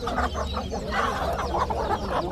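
At a bird market in Adana, a rooster clucks in quick choppy bursts close by, with market bustle in the background.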